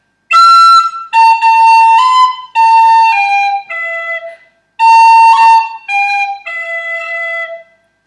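Tin whistle playing phrase 3 of the Irish tune Scatter the Mud, a clear close melodic run of bright sustained notes with a breath pause midway, played alone.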